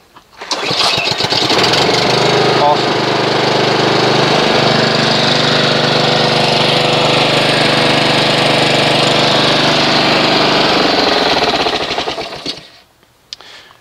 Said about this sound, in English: I'm going to go ahead and run the engine, get the engine up to operating temperature.